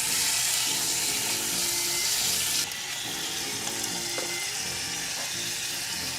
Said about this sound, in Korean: 달달 볶아 주세요.